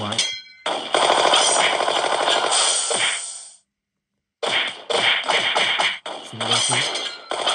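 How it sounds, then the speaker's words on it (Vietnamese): Rapid bursts of automatic machine-gun fire in a mobile video game, loud and sharp, in two long rattling stretches broken by a short silence, with smaller clattering shots near the end. "Súng máy."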